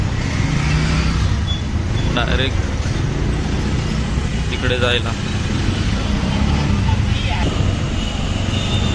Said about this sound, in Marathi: खूप ट्रॅफिक असल्यामुळे आम्हाला वेळ होतो आहे बघा खूप फुल ट्रॅफिक लागलेला आहे फुल ट्रॅफिक जाम एकदम